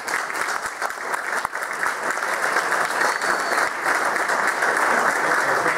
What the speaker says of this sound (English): Could we all please give a big round of applause to the cadets of Selma High School MCJROTC?